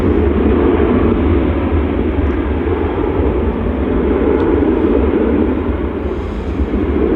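A Ryanair jet taking off from an early runway intersection at Manchester Airport, a loud, sustained, deep engine roar and rumble that holds steady for several seconds and eases slightly at the end, with no talk.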